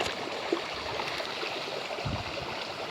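Clear stream water flows steadily nearby, a constant broadband rush with no voices over it.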